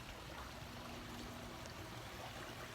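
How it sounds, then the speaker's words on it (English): Water pours steadily over a small waterfall into an 8x11 backyard ecosystem pond, a soft, even, continuous splashing rush with no voices. "And this waterfall and pond turned out really great."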